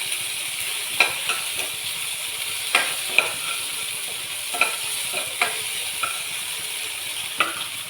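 Maggi noodles with egg fry in a pan under a steady, moderate sizzle, with occasional stirring scrapes and light utensil taps spaced a second or two apart.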